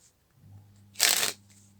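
Playing cards are handled during a magician's card move, a brief crisp riffle of about a quarter second standing alone in a quiet room, with faint low hum before and after.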